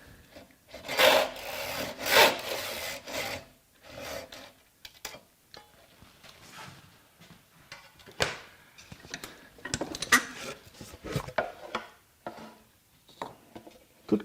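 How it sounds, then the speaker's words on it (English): A handsaw cuts English oak for a dining chair joint. It gives loud, rasping wooden strokes in uneven bursts, close by, separated by quieter pauses. "Good grief, I'm using a handsaw and it's coming out straight."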